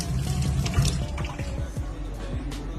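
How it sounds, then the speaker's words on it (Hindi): Water flows and splashes steadily from a tap or pipe, close by, with dripping, sloshing texture and low rhythmic gurgles throughout. "पानी तो आ रहा है, पानी तो आ रहा है।"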